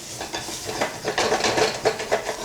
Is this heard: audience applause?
no